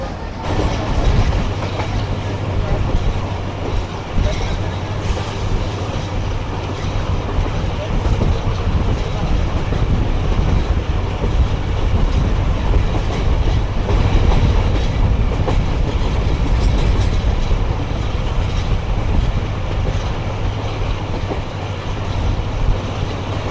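An express train on a Pakistani railway line between Haveli and Karachi runs close by with a continuous loud rumble and clickety-clack of wagons, while a voice talks over it.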